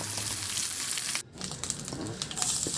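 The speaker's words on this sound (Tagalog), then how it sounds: "Igisa ko na rin yung bawang." Garlic sautéing in a pan, a close, steady crackling sizzle with a brief break and a few stirring clatters.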